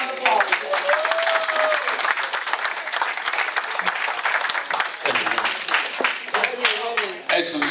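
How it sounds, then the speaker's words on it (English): Audience applause at a high school class of 1979 reunion, steady loud clapping from a room of people lasting several seconds, with voices calling out and cheering over it. "Let's give him a round of applause."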